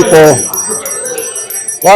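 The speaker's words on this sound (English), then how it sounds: "it's not Christmas without seeing them Salvation Army bell ringers in front of the stores" Salvation Army bell ringers stand in front of stores at Christmastime, shaking handbells that ring with steady, bright, overlapping metallic tones. Brief bits of a voice are heard at the start and end.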